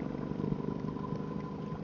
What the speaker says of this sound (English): It's like a deep throaty sound. T7 sound. But it is an aftermarket exhaust.